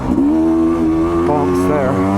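A Sherco 250 SE Factory dirt bike engine revs hard and close with a steady rising buzz under brief acceleration off-road, loud and continuous.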